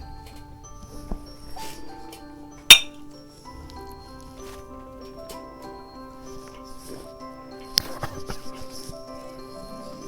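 A single sharp clink of glass rings out once, close and bright, with a fainter clink later, against a quiet background with a low steady hum.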